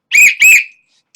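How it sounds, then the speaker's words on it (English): A 3D-printed plastic whistle blown in two short, shrill, close blasts in quick succession, loud and bright, with nothing else around them. "I 3D printed this whistle that actually works."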